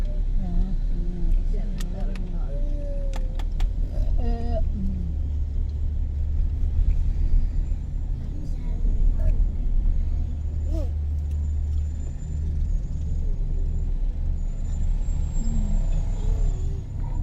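Steady road rumble of traffic on the Jagorawi toll road heading down from Puncak in heavy congestion, heard from inside a car, with a continuous low engine and tyre drone and a few brief tonal squeals, while people talk over it.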